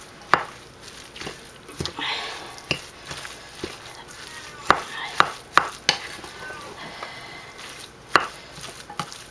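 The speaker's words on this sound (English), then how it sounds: "I'm just going to add basically a half a cup at a time and mix this in until the mixture holds together" Miracle Whip being mixed into an egg salad mixture, a series of soft scraping and tapping clicks from a utensil against a bowl, scattered and irregular, close by.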